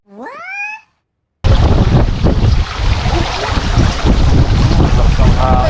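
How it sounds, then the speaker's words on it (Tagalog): Strong wind roars and buffets the microphone outdoors beside a koi and tilapia fish pond on a trip in Rizal. The steady, loud rushing follows a brief high-pitched call heard alone just before it. "Lakas ng hangin."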